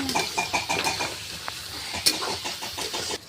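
Chopped onions fry quietly in a pan, giving a faint sizzle with soft, irregular stirring taps and a low background hum, no voices.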